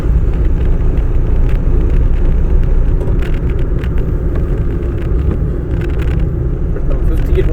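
A car engine labours and rumbles in too high a gear during a driving lesson, a steady loud drone throughout with an instructor talking over it.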